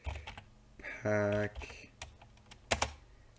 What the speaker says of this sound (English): you're going to hear my keyboard really loud